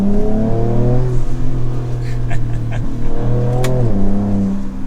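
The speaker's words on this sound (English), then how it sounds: "You can even hear the turbo blow off when you let off." A Ford Ranger Raptor or Toyota Tacoma TRD pickup's engine revs up and drops off repeatedly, with a short hissing turbo blow-off burst as the throttle closes, loud and close with no talking.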